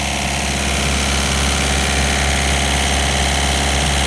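A car engine idling while overheating with its radiator fan not running, a loud, close, steady drone with a faint rhythmic knock and no voices.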